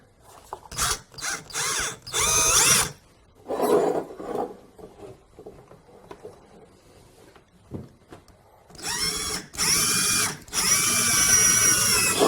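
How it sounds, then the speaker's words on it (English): A power drill whirs in several loud bursts while drilling holes in wood for a broken wooden stair repair, with quieter clatter between them, then runs again in long, strong stretches near the listener. "Now I want to drill a second hole right over here."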